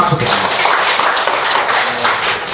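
A room of people breaks into steady applause at a Buddhist order's general assembly meeting, dense continuous clapping lasting throughout.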